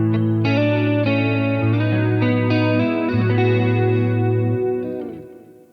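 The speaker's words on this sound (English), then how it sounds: "it's now going to have this delay and reverb and chorus sound on it." A Boss Katana-100 amp plays a sustained guitar tone with delay, reverb and chorus, giving held, shimmering notes and chords that ring on and fade out at the end, loud and with no talking.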